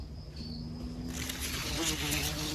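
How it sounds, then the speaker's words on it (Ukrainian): Bumblebee buzzing around strawberry flowers of the Asia variety, a faint, steady hum close by that shifts slightly in pitch as it moves among the blossoms outdoors. "Ось джмелик літає, запилює квіточку."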